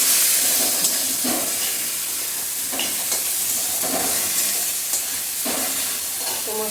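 Spices for a Bengali fish curry sizzle and hiss steadily in a pan with tomato and stems while a spatula scrapes and stirs at intervals, close and continuous.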